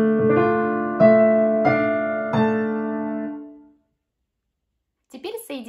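Piano playing the theme from the series Liquidation with both hands, several clear struck chords ringing and decaying over a few seconds, followed by silence and then a voice speaking.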